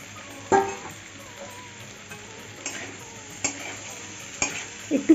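Potatoes go into a pan of frying jackfruit curry and are stirred, giving a soft sizzle under a few sharp spoon scrapes and knocks against the pan, close and fairly quiet.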